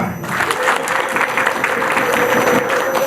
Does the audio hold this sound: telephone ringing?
no